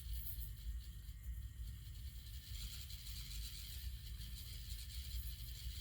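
A tiny SCX24 RC crawler running a V3 Mofo RC setup whirs and ratchets steadily, a thin mechanical gear whine with faint clicks, close and continuous with no talking.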